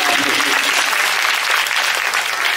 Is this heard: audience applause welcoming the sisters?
yes